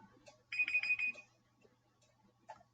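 A timer alarm goes off with a brief burst of rapid electronic beeps, about four or five pulses in quick succession, clear and moderately close over a quiet room with faint background hum.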